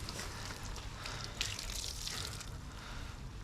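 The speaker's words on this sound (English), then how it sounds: "Alright, I'm going to go rinse that out." Water running steadily from a tap while something is rinsed out in a workshop during an epoxy restoration job, a soft continuous hiss and splash at low level with no talk.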